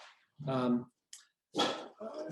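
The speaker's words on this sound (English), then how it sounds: "growling dog, don't mind me" A dog growls and vocalizes indoors in short harmonic bursts, close and fairly loud, with pauses between them.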